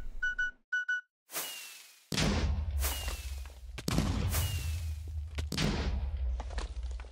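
A Minecraft graphite sword from a Fabric ores mod sets off a series of booming in-game explosions, each opening with a whooshing burst and a long rumbling tail, after a few short electronic beeps.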